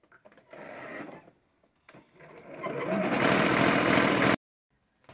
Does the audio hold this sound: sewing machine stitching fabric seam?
yes